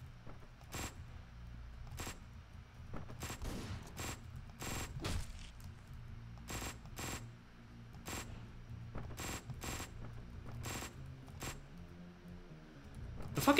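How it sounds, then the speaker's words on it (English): Machine gun fire in a video game, spaced loud bursts of shots repeating over several seconds against a low steady background rumble. "The fucking two machine gun thing is so goddamn ridiculous."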